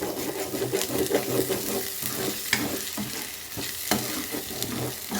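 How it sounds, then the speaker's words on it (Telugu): Biryani with grated coconut being stirred in a pan, a steady scraping and sizzling texture with intermittent spoon knocks against the pan, close and moderately loud, no voices. "కొబ్బరి వేస్తున్నాం కదా అడుగు అంటుతుంది కలుపుతూ ఉండాలి"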